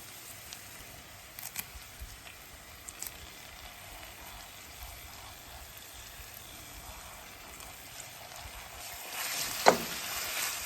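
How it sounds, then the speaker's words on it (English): Thyme sautéing in a pan for Caribbean-style smoked herring gives a steady, soft sizzle throughout, with a few faint utensil taps and a brief louder clatter near the end. "we are just going to go ahead and saute this for a few minutes"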